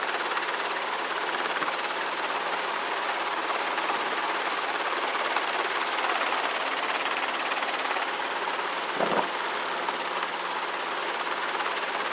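A helicopter hovers near Long Beach airport, its engine and rotor giving a steady, loud broadband drone heard from inside, with a faint brief thump midway.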